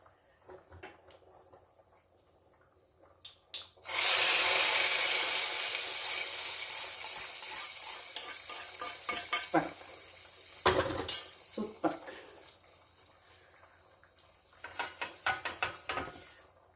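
A hot mustard-seed tempering is poured into sardine fish curry, bursting into a loud, sudden sizzle that spits and crackles, then fades, with clinking pots and utensils before and after.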